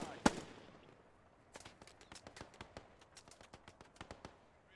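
A Bren light machine gun fires in bursts of sharp, distant cracks in Post Scriptum, a rapid rhythmic string of shots after one louder initial report.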